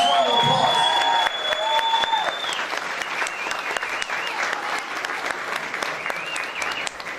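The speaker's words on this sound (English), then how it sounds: "Let's give him a nice round of applause" An audience at a charity foundation gala bursts into applause, a dense wash of clapping that starts after a brief tonal sound and carries on steadily to the end.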